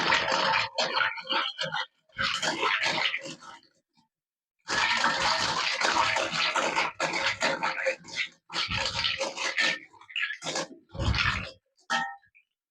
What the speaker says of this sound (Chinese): 洗好之后捞出来，再加一勺水，清洗一次。